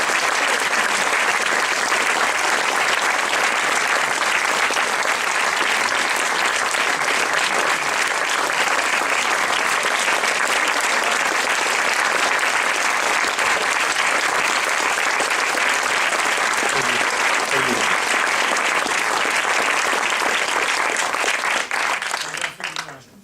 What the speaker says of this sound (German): bitte einen großen Applaus für den Regisseur und für den Gerardino und Martin.